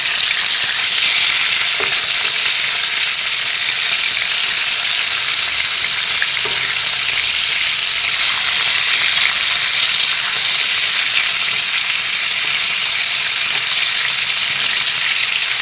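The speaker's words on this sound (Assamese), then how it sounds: "অলপ ফ্ৰাই কৰি লওঁ। এয়া মই মাছখিনি এনেদৰে লটিয়াই দি দিওঁ।" Fish frying in a pan of hot oil, a loud, continuous close-up sizzle that holds steady throughout, with a couple of faint clicks from turning the pieces and no talking.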